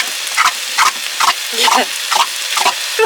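Beans stirred in a pan on an off-grid homestead in Portugal: a spoon scrapes and swishes in regular strokes, about eight close, distinct passes, with a brief spoken word.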